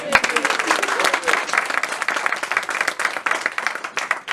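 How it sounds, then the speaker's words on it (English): An audience claps performers off the stage with a lively mass of applause. Loud, dense hand claps mix with crowd voices and cheers and continue without a break. "So let's clap them back off the stage"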